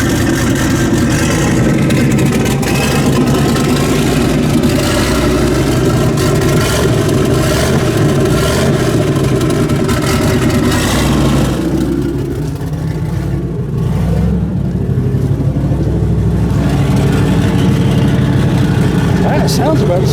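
A turbocharged truck engine, a Suburban fitted with a bigger turbo in a garage, revs loudly and steadily for about twenty seconds, its rumble easing briefly midway before building again.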